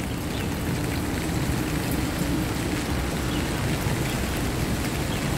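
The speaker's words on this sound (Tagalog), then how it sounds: "Medyo po maulan ngayong panahon dito sa Hong Kong." Steady rain falls in Hong Kong on a dark evening, a dense, even hiss of drops on surfaces that stays constant and fairly loud throughout, with no voices.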